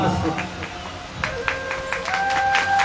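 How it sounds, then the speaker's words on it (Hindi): Audience clapping at a Shiv Mahapuran katha gathering, a steady crowd applause close by, mixed with a voice and a sustained harmonium-like drone. "देख लो, बज गई ताली।"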